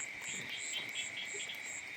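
Small frogs calling at night in a wet rural spot, a steady chorus of short repeated croaks mixed with a constant insect and cricket drone, moderately loud and continuous, with no voices.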